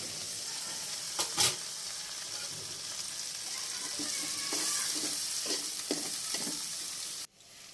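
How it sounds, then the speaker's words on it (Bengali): Chopped onion, garlic, green chilli and ginger fry in leftover oil, a steady close sizzle broken by several sharp scraping stirs of a spatula against the pan, ending abruptly. "এবার বাকি তেলের মধ্যে পেঁয়াজ রসুন কাঁচামরিচ একটু আদা কুচি করে এটাকে একটু কষিয়ে নিব"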